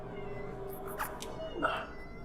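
A cat meows a couple of times, faint and a little distant, over low background hum and murmured talk in a room.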